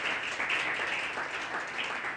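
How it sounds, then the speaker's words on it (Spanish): Church congregation applauding for God during a Spanish-language sermon, a dense, steady wash of clapping that stays fairly even for a couple of seconds. "Dale otro aplauso fuerte a nuestro Dios"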